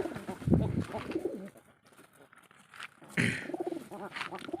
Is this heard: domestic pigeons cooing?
yes